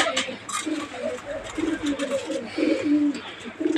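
Pigeons in a loft coo in a steady run of low, throaty calls, close and fairly loud against a faint background hum.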